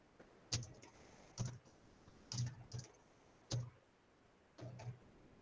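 Computer keyboard typing, soft and close, in short bursts of clustered keystrokes separated by brief pauses.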